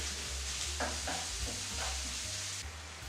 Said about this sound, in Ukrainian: Як завжди, очищаю, розчавлюю і викладаю в сковорідку.